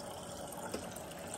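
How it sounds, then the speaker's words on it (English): Water running from a tap into a container, a continuous, moderately quiet gushing flow with no voices over it. "I'm getting my water."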